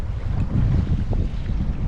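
Strong wind at sea buffets the microphone on a fishing kayak off the UK coast with a deep, constant rumble, over a faint wash of water and no voices.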